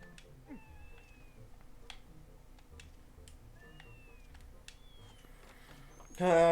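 Several cat meows from the video game Zelda: Twilight Princess rise and fall over a low tonal game background, spaced across the stretch, before a loud burst of sound at the very end.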